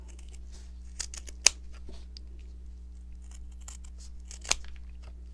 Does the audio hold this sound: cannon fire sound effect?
no